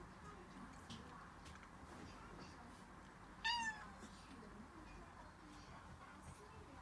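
Hungry kitten eating ordinary cat food indoors, giving one short faint meow amid quiet background noise and soft distant voices.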